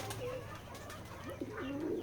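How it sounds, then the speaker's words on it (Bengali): Pigeons cooing at a pigeon farm, several soft throaty coos rising and falling close by over a low steady background hum, with a few faint chirps mixed in. "এটা আমাদের ফার্ম হাউস, কবুতরের খামার।"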